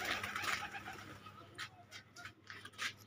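Pigeons coo softly inside a loft, low throaty calls repeating irregularly and close by over a steady background hum, with no talking.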